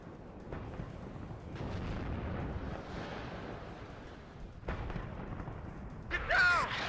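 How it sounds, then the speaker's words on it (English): Battle noise from the Cold War strategy game WARNO, rolling booms and gunfire rising and falling over several seconds, with a sharper burst near the end and a voice speaking over it. "We're being shot at."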